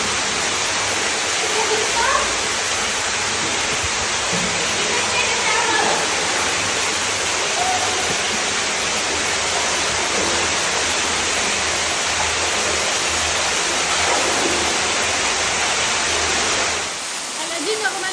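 Waterfalls cascading inside a Malaysian cave after rain, a loud continuous wash of pouring water that fills the space, with faint voices now and then under the roar.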